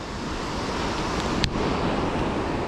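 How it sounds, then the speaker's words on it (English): Rushing water at the Cucumber Rapids pinch point, a steady broadband roar filling the whole stretch with no voices over it. "This is the Cucumber Rapids pinch point."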